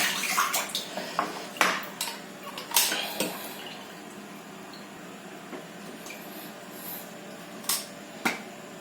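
Tap water runs steadily while a Staresso Mirage SP300 espresso basket is rinsed, with scattered metallic clinks and knocks of the basket against the sink, quiet and close.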